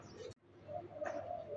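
A pigeon coos softly and close by, a short low call that follows a brief gap in the background.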